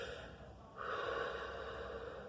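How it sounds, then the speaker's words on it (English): A person takes a deep breath, a quiet exhale followed by a long, loud airy inhale that holds steady, close to the listener with no talking. "I need to I need to breathe a lot."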